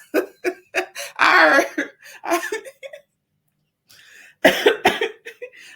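Several harsh coughs in quick succession, close up, mixed with breathy laughter, then a short pause and another coughing fit.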